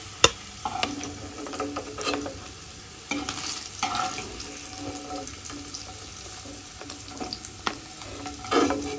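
Paneer lightly frying in a pan sizzles steadily beneath intermittent clinks and scrapes of a utensil, with a splash of running water at moments.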